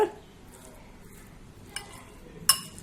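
Cauliflower stuffing being mixed with garam masala, cumin powder and salt for paratha: a faint, soft rustle of stirring punctuated by a few sharp clinks against a vessel, with no talking.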